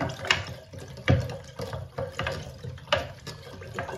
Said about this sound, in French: Je remue bien le sucre avec l'eau.